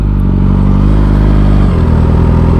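A Kawasaki Ninja H2 motorcycle idles up close and loud, a steady deep mechanical throb with a rough, clattering edge that drops slightly in pitch partway through.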